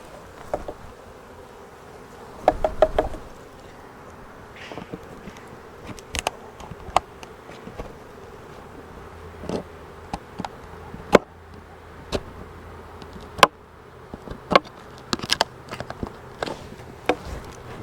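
Honey bees buzz around a hive and queen cage, a faint steady drone broken by scattered sharp clicks and knocks from handling the equipment, with no voices.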